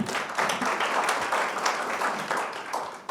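At a National Assembly forum on government innovation and blockchain, an audience applauds after a lecture with steady, dense clapping from many hands, fairly close and filling the whole moment.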